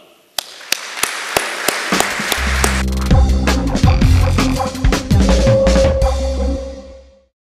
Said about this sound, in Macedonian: ја повикувам целата сала на нозе со најсилен аплауз